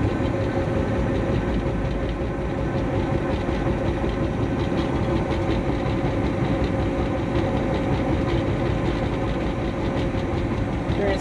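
A John Deere 850J dozer runs steadily to warm its transmission oil, producing a loud, continuous diesel engine rumble with a constant drone and no pauses.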